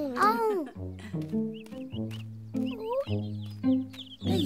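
Cartoon chicks cluck and peep in quick, high chirps, scattered over gentle animated background music, close and clear.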